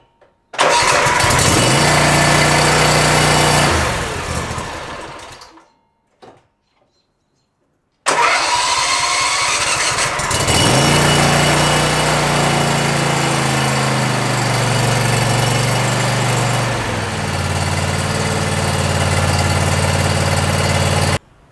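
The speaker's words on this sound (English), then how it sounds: "see how easy this mower starts up" A Simplicity Courier riding mower with a Briggs & Stratton engine cranks and fires up after sitting through winter storage, then settles into a steady, loud idle close by, with a brief pause between a first attempt and the successful start.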